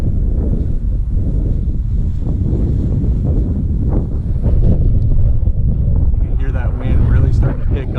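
Wind buffeting the microphone during a flight of a Holy Stone HS175D compact foldable brushless GPS drone, a loud steady rumbling roar throughout, with someone talking under the noise and gusts rising near the end.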